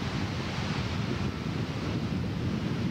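Roar of the American Falls at Niagara Falls, heard from roughly 100 to 150 yards away: a steady, dense broadband rush of crashing water mixed with wind buffeting, loud and unbroken with no voices.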